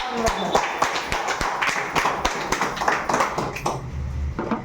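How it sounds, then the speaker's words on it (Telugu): Audience clapping at a business opportunity meeting: a crowd's sharp, irregular claps fill the space close and loud, with no talk between them. "మీరు ఇంత జోస్గా క్లాప్స్ కొట్టడం అయితే నాకే నచ్చలేదు."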